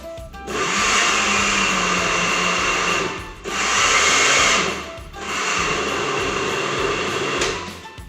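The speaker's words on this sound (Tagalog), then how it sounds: "be careful ha sa paggamit ng blender" A blender whirs loudly in three long bursts while making tomato jam, stopping briefly between runs, close up and without talk.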